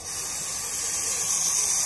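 A steady, close hiss of spray paint or lacquer being sprayed onto an Ibanez Jem electric guitar, continuous for about two seconds with no pauses.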